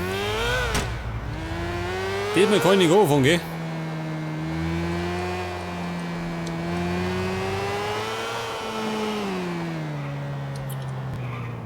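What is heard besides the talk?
motorcycle engine revving in video game Grand Theft Auto IV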